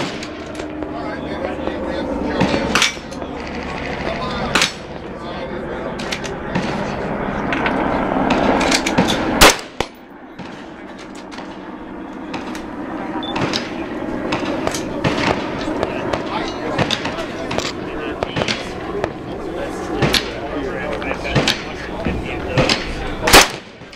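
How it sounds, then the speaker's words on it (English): Repeated sharp rifle shots at an outdoor shooting range ring out loud and close, spaced irregularly across the stretch with one especially heavy blast midway, over steady background noise. "I'm going to shoot it"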